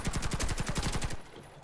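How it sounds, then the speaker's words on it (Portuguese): In the video game Warface, an XM8 rifle fires a rapid automatic burst, about a dozen sharp shots in quick rhythm, then a brief quiet tail. "essa arma tá com um tiro estranho"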